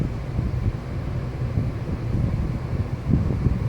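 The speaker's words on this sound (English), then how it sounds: "now the awesome airflow will start blowing down again" A Hampton Bay Windward II ceiling fan pushes a steady, rushing flow of air downward, a continuous low whooshing buffet close to the microphone with no talk.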